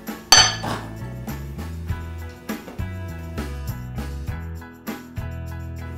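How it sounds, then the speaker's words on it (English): Metal utensil clinking and scraping against a bowl while flour is stirred into a proofed yeast mixture for a cast iron skillet pizza dough, with repeated rhythmic knocks, close and fairly loud, no talking. "Now we'll mix the flour together."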